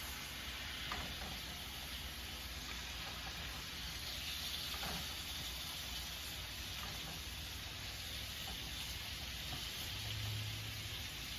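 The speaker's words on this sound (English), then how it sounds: "it is time to flip meat" A freshly flipped, seasoned steak sizzles in a hot pan with a steady, even hiss that carries on unbroken throughout, close by, with no speech.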